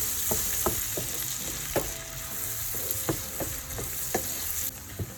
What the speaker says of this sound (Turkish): Şimdi soğanları kavuruyoruz güzelce.